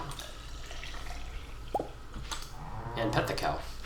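A few wet squirting, dripping sounds from milking a cow in Stardew Valley, with light game sounds and background hum around them.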